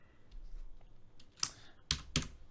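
Fingers tap a computer keyboard in a few quiet, scattered keystrokes, with a sharper cluster of three clicks near the end against a hushed room.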